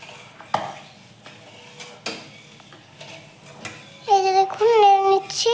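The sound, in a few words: stirring sugar syrup with cardamom in a pot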